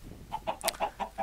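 Minecraft chickens cluck in a quick run of short, clipped calls, about six in a row, close and moderately loud with no other sound around them.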